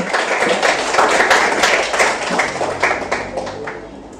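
A short round of applause from a classroom of students, many hands clapping loudly and close, fading out toward the end.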